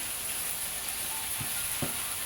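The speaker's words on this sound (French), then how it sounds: "On va laisser cuire au feu doux." Tilapia fish dish sizzling gently in a pan over low heat, a steady soft frying hiss with a couple of faint stirring knocks, close and alone without voices.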